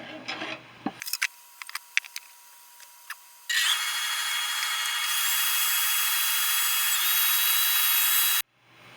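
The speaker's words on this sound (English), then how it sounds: "I'm gonna go ahead and sand down what I got though" Power sanding on a lathe-turned white ash wooden bowl at 60 grit: scattered taps and scrapes, then a loud, steady broadband whir of abrasive against wood that runs for about five seconds before cutting off abruptly.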